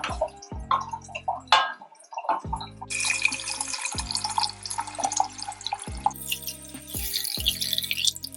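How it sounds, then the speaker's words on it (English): Water poured into a pot of beetroot borscht on the stove, with watery drips and splashes over about eight seconds and a faint repeated ticking underneath, no talking. "Just gonna put some water."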